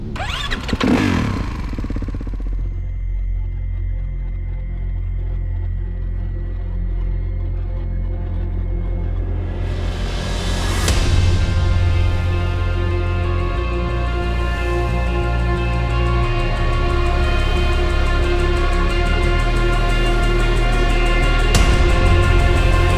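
A 2019 Kawasaki 450 KXF motocross bike, tested in Sweden, roars loud and close as it is ridden, with a rising rev and gear changes, then a sustained high-pitched engine drone with periodic throttle blips throughout.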